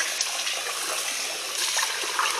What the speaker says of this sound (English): I'm going to rinse this with cold water